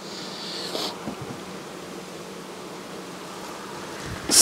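Honey bees buzz at an open hive outdoors in a steady, low, even hum, with wind rustling around them and a couple of brief knocks.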